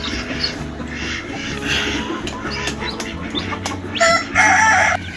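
Birds calling in a farm yard where turkeys are kept, with clucking and crowing-like calls repeating over steady low background noise and a louder burst of calls near the end.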